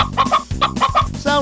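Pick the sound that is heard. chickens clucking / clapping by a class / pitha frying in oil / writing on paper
chickens clucking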